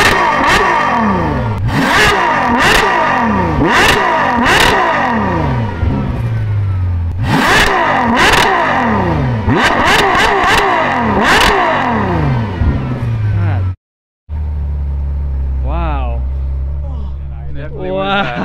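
A Ferrari 812 Superfast V12 engine revs hard again and again, loud and close, with sweeping rises and falls in pitch, then a brief cut and a lower idle rumble while people talk excitedly.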